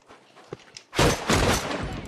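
Shotgun blasts in The Last of Us video game, a couple of loud, close booming shots with heavy rumbling tails following a few faint clicks and taps.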